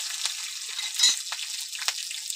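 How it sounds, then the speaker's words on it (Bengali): Cumin seeds and slit green chillies frying in hot oil give a steady, fairly loud sizzle with a few sharper crackles and pops scattered through it, and no voices. "এবার আমি তেল দিয়ে দেবো। জিরে ফোড়ন দেবো আর কাঁচা লঙ্কা চেরা।"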